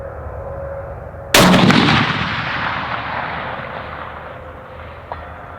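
A precision hunter-series rifle fires a single sharp, loud shot at long-range steel targets outdoors, with a long echoing rumble trailing off over several seconds and a faint distant ping near the end.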